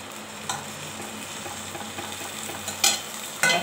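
Palm fruit batter with semolina and flour frying in oil, a steady close sizzle with a few light scraping taps of a utensil.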